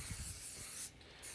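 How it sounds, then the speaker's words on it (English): Short hissing spray burst over the top of a rolled cherry ricotta strudel before baking, a steady near hiss that cuts off briefly near the end. "When you spray the top, you're actually going to give the strudel a very nice golden color."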